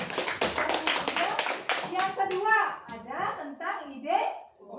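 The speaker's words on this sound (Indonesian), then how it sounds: "Bagus, tepuk tangan dulu." Students in a classroom clap briefly in a quick burst of hand taps, mixed with children's voices and an adult teacher speaking over and after it.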